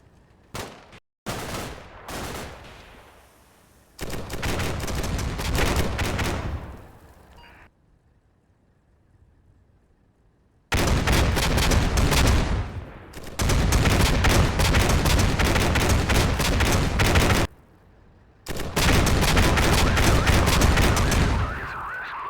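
Sustained machine gun covering fire from Combat Mission Shock Force 2 comes in several loud, dense bursts of rapid shots, broken by short quiet pauses, with no voices.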